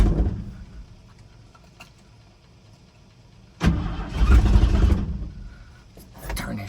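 A car engine cranks and catches after the fuel pump is worked a few times, a sudden loud start that settles into a rough idle, then revs slightly, close by, with some talking.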